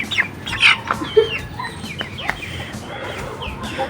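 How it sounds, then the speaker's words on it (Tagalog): A Rhode Island Red hen clucking and squawking close by as she gets ready to lay, with sharp irregular calls over a steady rustling farmyard background. "Ito, nag-iingay na rin. Mangingitlog na rin po yan maya-maya. Yan yung ating Rhode Island Red."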